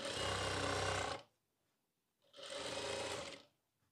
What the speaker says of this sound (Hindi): देखो किस तरीके से मैं सिलाई लगा रहा हूँ